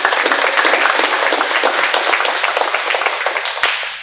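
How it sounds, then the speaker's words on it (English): Crowd at a Juneteenth commemoration claps for a presenter, loud close applause with crisp individual hand claps throughout, easing off slightly at the very end. "Let's give Ms. Natalie a round of applause."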